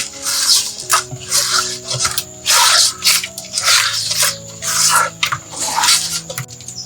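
Fish pieces are rubbed and washed by hand with salt and water, making repeated wet squishing, splashing bursts in a steady rhythm, close and fairly loud, with no talk over them.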